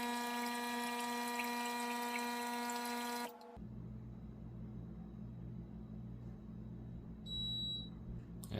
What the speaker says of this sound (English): Now it's pouring water from the group head